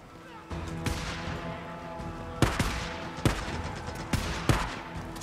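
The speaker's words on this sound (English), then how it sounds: "You're gonna start shooting?" Gunfire in the video game Days Gone: several sharp shots a few seconds apart over a steady game background, with a louder cluster of reports near the middle and end.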